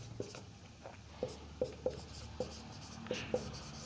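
Chalk or marker writing numbers on a board during a maths class: faint, scattered taps and short strokes at an irregular pace over a quiet room hum, with no talk.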